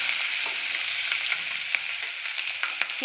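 Cumin, asafoetida, turmeric and ginger-chilli-garlic paste sizzle as they are sautéed in a pan, a close, continuous hissing fry with soft crackles and light stirring knocks.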